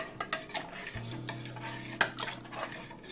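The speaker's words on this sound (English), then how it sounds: "Mix it up." A spoon stirs yogurt starter into milk, giving soft scraping swirls and several light metallic clinks against the pot, close up with a low hum underneath.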